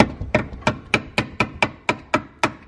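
Steady hammer blows flattening a pinch weld on a Lexus GX470, about ten sharp metallic strikes in an even rhythm, close and loud.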